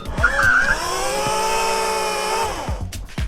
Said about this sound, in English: Let's do a little burnout. Warm up this rear tire.